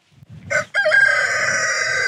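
A black blue-egg-layer breed rooster crows loudly and close by on a farm, a short opening note followed by a long, drawn-out call.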